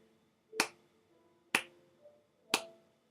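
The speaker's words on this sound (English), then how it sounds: "each one of these snaps that you hear, because I'm snapping" Three crisp finger snaps land about one second apart, a steady quarter-note pulse near 60 beats per minute, close and clear with quiet gaps between.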